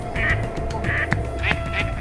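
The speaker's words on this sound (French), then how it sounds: "Au passage, nous dérangeons quelques oiseaux et ragondins, bien étonnés de nous voir là" Ducks quack several times at a pond at night, disturbed birds calling in short, nasal bursts, fairly close over a steady low background hum.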